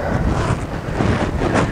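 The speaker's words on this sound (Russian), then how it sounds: "сильный ветер, сдувает приманки" Strong wind buffets the microphone in a continuous, roaring rush, with no voices.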